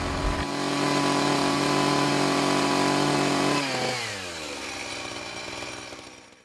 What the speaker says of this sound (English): Just remembered I was going to cut a notch in the front. Yeah. Do a quick chainsaw on.